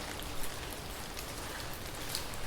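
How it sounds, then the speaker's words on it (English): Rain taps against tall windows as a steady, dense patter of small drops, soft and even throughout, with no voices. "The rain tapped against the tall windows as if impatient for answers."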